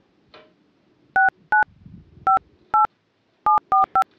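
iPhone keypad dialing tones: seven crisp, loud two-note beeps in an uneven sequence, with faint handling noise between them and no speech.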